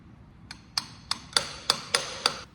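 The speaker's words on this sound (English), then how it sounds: "And now carefully tap my oil slinger back up against it." Careful hammer taps seat an oil slinger into place during a flywheel leak repair on a John Deere 70 Diesel tractor: seven sharp, evenly spaced metallic knocks, close and distinct, with no talking.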